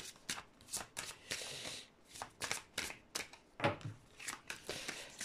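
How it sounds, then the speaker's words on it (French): A deck of cards is shuffled close up, with rapid papery riffles and flicks in irregular bursts, ending with a card drawn, quiet and crisp. "allez, on tire une petite carte."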